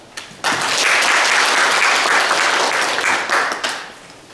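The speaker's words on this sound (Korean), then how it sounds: "윤석 대표님 큰 박수로 맞이해주십시오" An audience claps loudly to welcome a company representative to the stage at a business training event, the applause starting abruptly, holding steady and then fading out.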